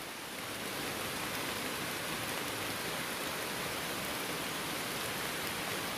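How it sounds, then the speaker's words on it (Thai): Rain falls steadily in an evening outdoors, a dense even hiss of drops on the ground and surfaces, unbroken and without talk. "นี่บรรยากาศฟังเสียงด้วยจ้า ฝนตกนี่และ"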